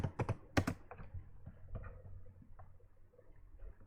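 A few keystrokes on a computer keyboard enter a command, a handful of sharp clicks up front followed by scattered softer taps, close and quiet with no voices.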